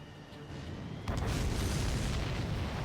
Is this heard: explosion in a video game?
yes